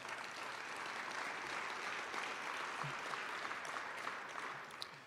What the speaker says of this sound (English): That was a small clap.